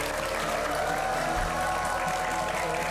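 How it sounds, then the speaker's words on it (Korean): An audience applauds to welcome a guest onto a stage, a dense, steady wash of clapping throughout, loud and close, with a voice speaking briefly over it. "큰 박수로 맞아주세요"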